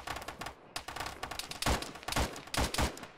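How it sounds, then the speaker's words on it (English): Dense gunfire in the video game Arma, rapid overlapping automatic bursts and scattered single shots, loud and continuous with close and distant reports mixed together. "You guys continue firing."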